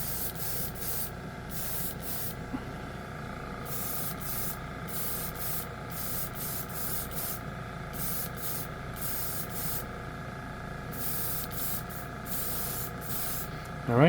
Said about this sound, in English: Let's spray a piece with it.